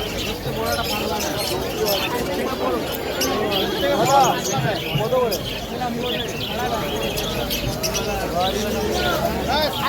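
Birds chirp and coo among the crowd at a village market, their quick calls scattered under continuous nearby talk and busy market noise.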